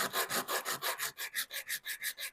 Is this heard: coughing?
no